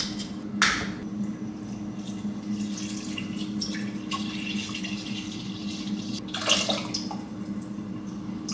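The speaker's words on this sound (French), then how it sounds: "Ajouter 1 litre de lait." One litre of milk poured into a white sauce for homemade lasagne makes a soft, continuous liquid stream, with a couple of brief louder splashes near the start and again later.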